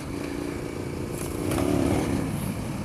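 A KTM 1090 Adventure R motorcycle pulls uphill, its engine note droning steadily and swelling as the throttle opens, heard close over wind noise.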